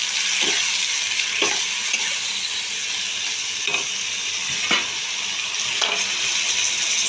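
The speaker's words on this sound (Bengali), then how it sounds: "এটা একটু ভাজা হয়ে যাবে ভালো করে" Egg curry masala of salt, chili powder, turmeric and cumin powder sizzles steadily in a pan, a constant close hiss with a few soft stirring scrapes and no talk.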